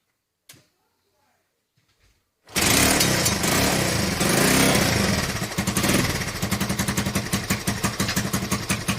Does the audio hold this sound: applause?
no